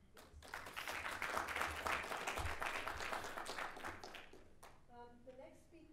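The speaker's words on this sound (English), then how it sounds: "let's give him a big round of applause" Audience at an education summit session applauds after a speaker finishes a talk, a steady wash of clapping swelling then tapering over several seconds, with some voices mixed in near the end.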